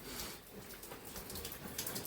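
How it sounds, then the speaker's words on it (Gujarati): Steady rain falls outside during a heavy monsoon downpour, a soft continuous patter of drops heard faintly and at a distance, with no voices. "સવારનો સ્ટાર્ટ થઈ ગયો વરસાદ."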